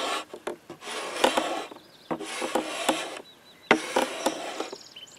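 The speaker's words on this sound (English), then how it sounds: "I'm using my draw knife and just using this as a scraper" A draw knife is used as a scraper along a wooden flat bow, giving repeated rasping strokes in close, rhythmic bursts, each about a second long, separated by brief pauses and light knocks.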